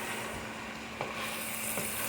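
Antelope meat fries with spices in a pan, giving a steady close sizzle with faint stirring scrapes, with no voices over it.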